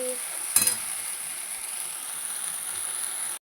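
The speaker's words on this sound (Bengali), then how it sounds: "জিরে বাটা লঙ্কা গুঁড়ো হলুদ ধনে গুঁড়ো সব দিয়ে দিয়েছি চলো মশলাটা কষে নিই ভালো করে" A spice paste of ground cumin, chilli powder, turmeric and coriander fries in a pan for a fish curry, giving a steady, even sizzle with a brief clatter of stirring near the start before the sound cuts off.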